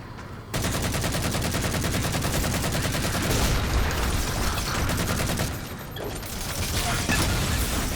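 Covenant grunts fire fuel rod guns in Halo 4 co-op play, a sustained barrage of rapid, loud bursts and mechanical weapon noise running almost the whole time, with a brief quieter dip near the end.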